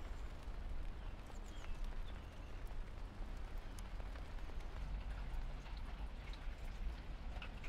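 Rain falls steadily in a garden among roses and hydrangeas, a soft continuous patter of drops on leaves and surfaces with occasional sharper ticks nearby, fairly quiet and unbroken, with no voices.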